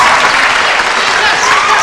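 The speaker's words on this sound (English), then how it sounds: "Everybody cheering wildly for their teams." A loud basketball crowd at a men's game between Palau and Pohnpei cheers wildly and continuously, a dense roar of voices with no pauses.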